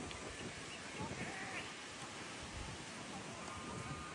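Strong wind roars steadily outdoors near a tree, a dense broadband rush with gusty swells and buffeting against the microphone throughout.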